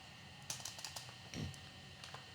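Faint clicks of typing on a computer keyboard, a short scattered run of keystrokes heard close against quiet room hiss.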